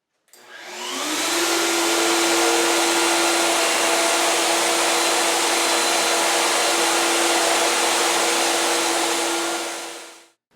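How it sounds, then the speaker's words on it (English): A router with a collar and upcut spiral bit hogs out a mortise in wood, giving a loud, sustained high-pitched motor whine with broad cutting noise that spins up, holds steady for about nine seconds, then stops. "I've got a collar and an upcut spiral bit, and we're just going to hog out the material."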